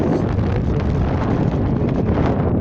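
Strong wind buffeting the microphone in a loud, constant low roar with no pauses, in the mountains of Artvin.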